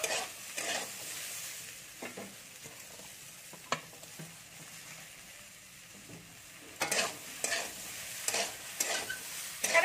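Okra and onions fry together in a pan, giving a steady close sizzle broken by scraping stir strokes, with a cluster of louder stirring bursts near the end.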